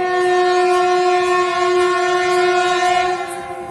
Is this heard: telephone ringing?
no